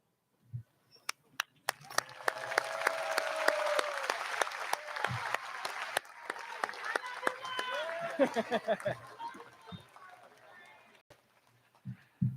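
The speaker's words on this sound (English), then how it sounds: "Graduates, at this time, can you please stand and applaud your supporters for their years of love and support?" Graduates at a 2022 high school commencement stand and clap for their supporters, sustained applause from a large crowd that swells, runs for several seconds, then thins into scattered claps, with faint voices and cheers mixed in.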